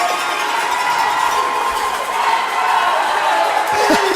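Crowd cheering from a cheering section at a sports game between Team Atlantic and First Class, a steady dense roar of voices throughout with a commentator talking over it.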